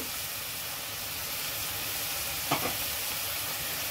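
Radish leaves fry in a pan with turmeric, giving a steady broadband sizzle and hiss that runs throughout, with one brief stir or scrape near the middle and no voices.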